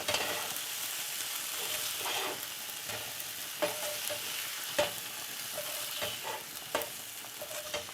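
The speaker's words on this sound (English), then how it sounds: "So I'm going to scoop this out of the pan into a bowl at about that 7-minute mark." Food is scooped out of a hot frying pan into a bowl, with utensil scrapes and clinks landing irregularly over a constant sizzle, close and moderately loud.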